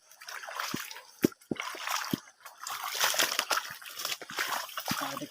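Stream water swollen after overnight rain splashes and sloshes close by at the Dũa stream, choppy gurgling bursts with a few sharp splatters, fairly faint overall.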